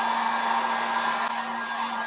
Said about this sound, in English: I take a heat gun.